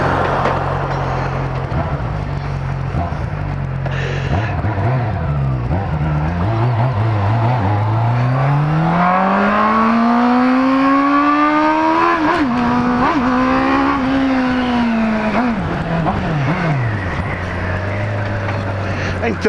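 Honda Hornet motorcycle with an aftermarket exhaust revving up close, loud and sustained, its pitch climbing steadily and then dropping back, with a second rev near the end and voices speaking over it.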